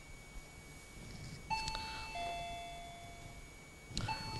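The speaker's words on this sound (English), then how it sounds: "The bell already gone." A quiz show bell rings twice, a bright electronic ding-dong chime followed by a second strike a few seconds later, clear over a quiet studio background.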